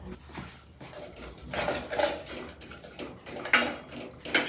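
Kitchen utensils clatter while a big spoon is fetched for making hot chocolate, with a run of close metallic clinks and scrapes, some louder knocks, and a sharp clang toward the end.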